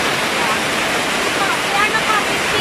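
Rain falling during the rainy season, a steady, dense hiss of broadband noise with no pauses, loud and close.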